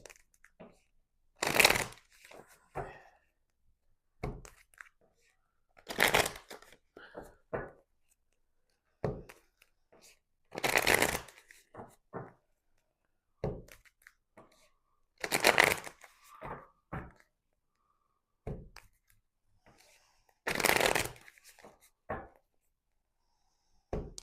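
Tarot cards being shuffled by hand in repeated bursts, five or six riffling flurries spaced a few seconds apart with softer taps and rustles between, close and clear with no talking.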